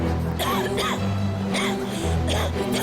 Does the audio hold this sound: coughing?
yes